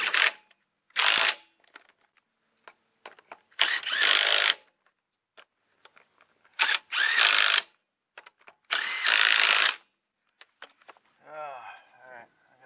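A power impact tool works wheel nuts loose on a 2003 Ford Explorer in several short, loud bursts separated by silence, with clinks of handling between them and brief speech at the end.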